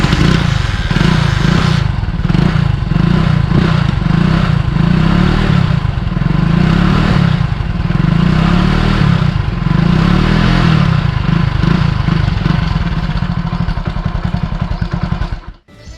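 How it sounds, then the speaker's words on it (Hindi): A 1999 Hero CD 100 motorcycle runs with a loud exhaust, recorded up close as a continuous throbbing engine drone with a steady pulse and rattle. Near the end it cuts off abruptly. "the exhaust is so loud."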